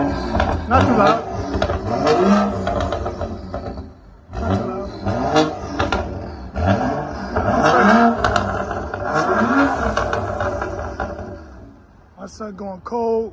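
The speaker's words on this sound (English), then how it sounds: "motor revving crazy" Loud, raspy revving from a BMW X5 F15 with an N55 engine on a full straight-pipe exhaust, several sharp rev bursts rising and falling close by, with people talking and shouting over it.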